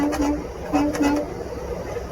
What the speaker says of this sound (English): so I'm gonna honk the horn at them and stuff